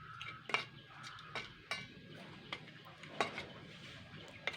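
A utensil stirs an egg and boiled potato batter in a bowl, giving soft wet sloshing with a few sharp clinks against the side, close and moderately loud, with no speech.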